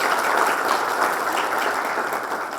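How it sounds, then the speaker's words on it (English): An audience at a school graduation ceremony applauds, a continuous even patter of many hands clapping at moderate volume for a couple of seconds, with no voices over it. "I wish everybody should clap for his efforts."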